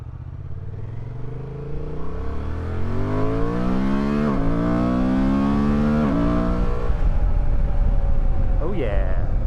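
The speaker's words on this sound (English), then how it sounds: "my 2024 Honda Transalp. Let's take her for a little burn." A 2024 Honda Transalp motorcycle in sport mode accelerating hard, engine pitch climbing steadily through several gears with brief dips at each shift, loud and close throughout.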